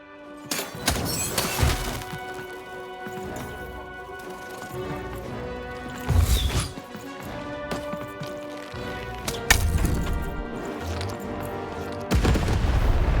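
Cannon fire in the video game Lost in Random comes as several heavy booms and crashing impacts spread over the clip, loud against a continuous musical score with no speech.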